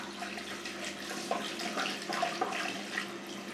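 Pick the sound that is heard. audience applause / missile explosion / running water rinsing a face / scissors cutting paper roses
running water rinsing a face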